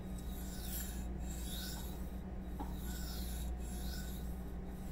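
An S30V steel knife edge is sharpened with back and forth strokes, giving a continuous close scraping rasp that swells and fades in a steady rhythm of about one stroke per second.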